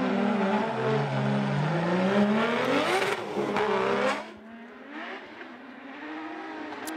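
Turbocharged E36 drift cars roar through a racing game's semi-final battle, engines revving hard and sweeping up and down in pitch, loud and close, before the sound drops back to a quieter droning rumble.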